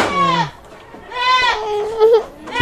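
Goats on a livestock farm bleat loudly and close by, three wavering cries in quick succession, with no talking.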